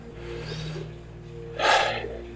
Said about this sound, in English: take a couple of nice deep breaths with me now